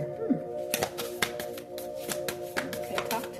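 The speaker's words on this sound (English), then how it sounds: "let me shuffle it some more" Deck of tarot cards being shuffled by hand, a run of crisp taps and flicks in irregular bursts, close and fairly loud, with a voice audible in the background.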